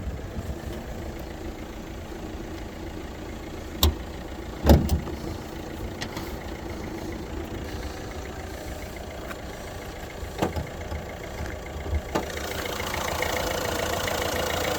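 A car engine idles steadily at a used car market in Rivne, with a low, even hum, a few sharp knocks or clicks standing out now and then.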